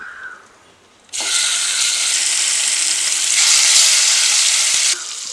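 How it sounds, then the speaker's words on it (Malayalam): A second batch of chicken hits a hot pan for tawa chicken, setting off a sudden loud, dense sizzle that holds steady and close for several seconds before easing slightly; no talking. "നമുക്കത് പാത്രത്തിലേക്ക് രണ്ടാമത്തെ ബാച്ച് കൂടെ ഇട്ട് കൊടുക്കാം."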